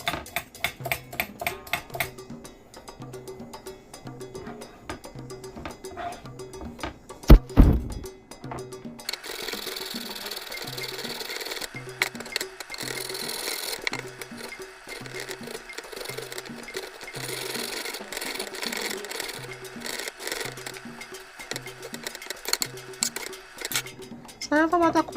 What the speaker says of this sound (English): I'm going to shred it on the same side that I used for the cabbage